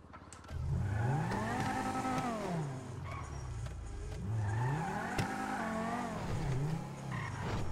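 Car in GTA V revving and accelerating through the gears, engine pitch rising and falling in repeated sweeps, a loud nearby roar with no talking.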